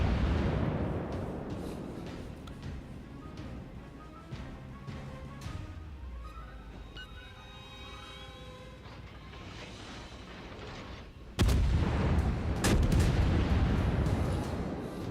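Tank cannon shells fired in an online video game played with lag, heavy booming blasts with ringing, echoing decay, then a sudden louder burst near the end, heard without speech.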